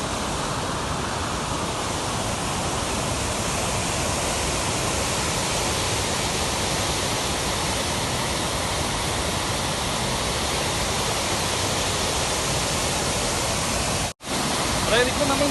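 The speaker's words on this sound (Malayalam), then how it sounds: "അത് ഭയങ്കര ശക്തിയിലാണ് വെള്ളം വീഴുന്നത്. അതുകൊണ്ട് ഭയങ്കര സൗണ്ടാണ്." Water plunges with great force from a tunnel outlet at Anchuruli in Idukki, making a loud, unbroken roar close by with a brief dropout near the end.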